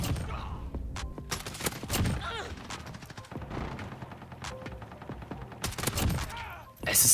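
Oden assault rifle fire in Modern Warfare, fitted with large attachments: loud, heavy gunshots close up, fired in several short bursts with brief gaps between volleys across the whole stretch.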